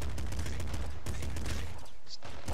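Dense, rapid gunfire from the top-down shooter Nuclear Throne rattles continuously for a few seconds, a steady barrage of overlapping shots.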